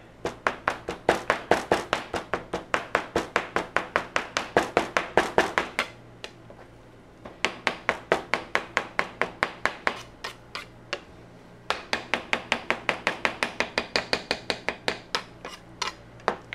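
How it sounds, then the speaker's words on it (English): A knife chops bluefin tuna toro on a board in fast, even bursts of sharp knocks that pause briefly and then resume, close and fairly loud. "You can just bomb, bomb, bomb, break through them. And then you can put it all together, and this is where you get some beautiful chopped toro"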